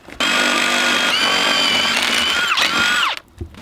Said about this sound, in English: now grab the drill